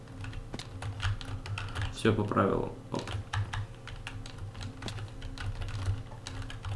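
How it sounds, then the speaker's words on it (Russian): Rapid computer keyboard typing clatters steadily throughout, close up, while someone briefly speaks over it. "вы сейчас слышите шумы клавиатуры"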